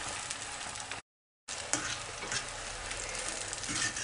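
Onion frying in oil in a pan, a steady close sizzle with light stirring crackles, broken by a brief gap of silence near the start.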